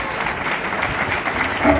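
A church congregation at a Sunday worship service breaks into steady, dense applause and cheering, a continuous wash of clapping with no clear pauses, slightly swelling toward the end.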